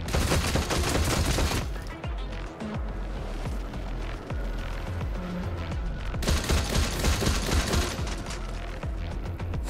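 Sniper gunfire in a video game pairs with a dense, loud barrage of rapid shots that eases off mid-way and then comes back just as heavy, with no speech.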